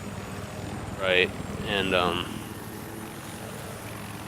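A helicopter in the video game Battlefield 4 drones with a steady low rotor and engine rumble, while someone talks briefly over it.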